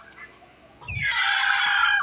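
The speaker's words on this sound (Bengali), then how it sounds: "দেখুন মাই ফ্রেন্ড ফয়সাল আহমেদ একটি মুরগি ধরে নিয়ে এলো" A domestic country chicken on a farm deep in the Malaysian jungle is grabbed, letting out a loud, close, strained squawk that starts abruptly after a quiet moment and holds for over a second.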